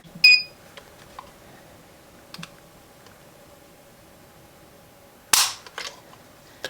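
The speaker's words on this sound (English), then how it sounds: "I want to get a trigger pull test on this and see exactly what it's pulling at right now" An empty Springfield Prodigy pistol's trigger is pulled against a Lyman trigger pull gauge, two sharp metallic clicks several seconds apart with a few faint ticks between, in a quiet room.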